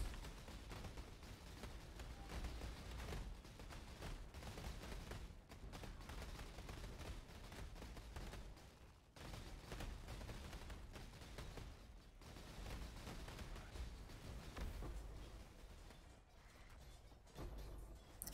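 Explosions in the video game Delve go off as a near-continuous barrage of crackling blasts and rumbling booms, faint and dense, with brief lulls between bursts.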